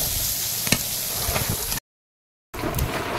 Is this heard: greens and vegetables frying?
yes